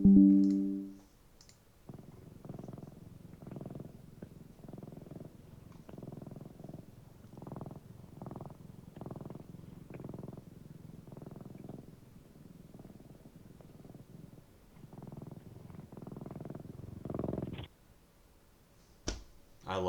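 A pet cat purrs, played back from a video on a device: a soft, steady rhythmic purr pulsing through nearly twenty seconds, with a short clatter of handling at the start and another near the end.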